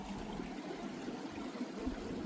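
A small mountain stream flowing out of Lago Chico in Huerquehue National Park near Pucón, a soft, steady trickle and gurgle of water heard close and quiet, with no other sounds.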